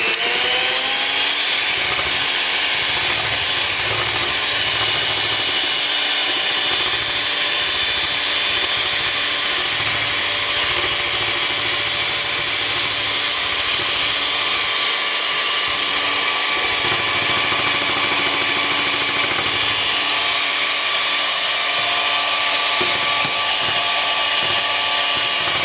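An electric mixer whirs loudly and continuously as it beats egg whites in a bowl, its motor a steady high whine with a rough, churning undertone that holds for the full length.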